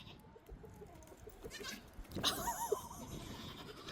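A goat bleats loudly and close by, a wavering cry rising over faint background rustle, following a few quieter earlier sounds from the animal.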